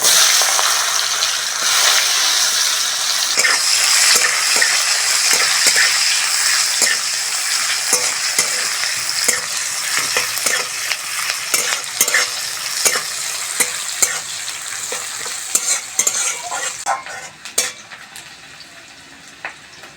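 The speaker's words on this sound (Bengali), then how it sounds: "পেঁয়াজটা ভালো করে ভেজে নিয়েছি" Chopped onions fry in oil seasoned with nigella seeds for a Bengali fish curry, giving a continuous sizzle broken by frequent spatula scrapes and stirring clatter, close and fairly loud, with no talking.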